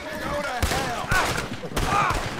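Gunfire in the Western video game Red Dead Online, three or four sharp shot bursts spaced about half a second apart, with faint voices beneath.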